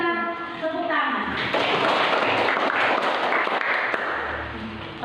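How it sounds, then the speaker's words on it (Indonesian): Children in an Indonesian classroom clap together, a dense burst of hand claps close by that holds steady for several seconds, with a teacher's voice briefly heard over the start. "kita tepuk tangan"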